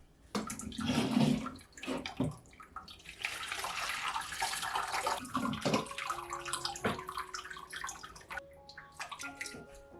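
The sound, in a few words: straining rose petal liquid through a coffee strainer into a pot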